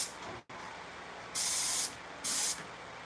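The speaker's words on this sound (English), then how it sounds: "Spray it." Two clear bursts of a spray can, each a sharp, close hiss lasting about half a second, separated by a short pause over a quiet room background.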